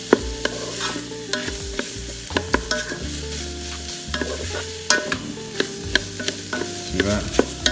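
Shrimp fried rice is stirred in a Ninja Foodi, a spatula scraping and tossing the rice in quick repeated strokes over a soft steady sizzle, close and without talk.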